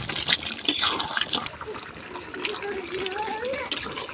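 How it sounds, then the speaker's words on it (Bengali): Water pours steadily in a splashing stream, softening into a gentle trickle, heard close up with faint background noise. "এখন দিয়ে দেবো আমি ঝোলের পানি"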